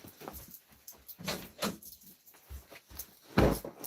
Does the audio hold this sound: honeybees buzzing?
no